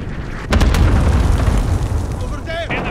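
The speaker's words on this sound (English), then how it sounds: "Cluster strike incoming." Booming cluster strike blasts in Call of Duty: Modern Warfare team deathmatch on the Shipment map, a loud burst erupting then rumbling continuously, with a voice heard briefly near the end.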